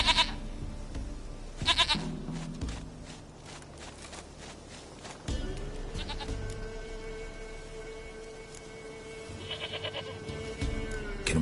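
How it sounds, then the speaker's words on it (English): Goat bleats in The Witcher 3, several short cries scattered among footsteps and faint game ambience, fairly quiet with a sustained tone in the middle stretch. "Goat of mine, dearest, sweetest goat."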